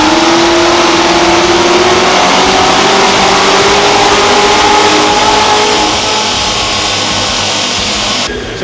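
A Chevy Corvette C7 Z06 with its stock intake revs hard on a dyno. The loud, rising engine note climbs steadily over several seconds before cutting off near the end.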